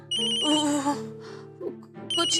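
A phone rings with a bright electronic ringtone, tonal and insistent, two bursts close by with no talking.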